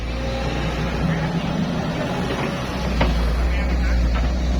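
An XCMG excavator with an Isuzu engine and Kawasaki K3V pump runs at a new pit, its diesel engine droning loud and close with a brief rise in revs near the end.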